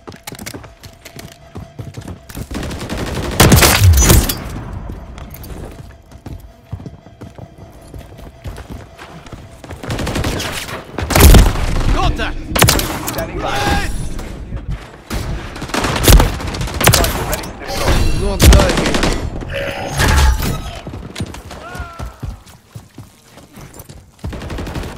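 Gunfire and explosive bursts in a Call of Duty: Modern Warfare III battle, loud sharp volleys clustering near the start and through the middle, with hoof-like clattering, soldier voices and constant battlefield noise in between.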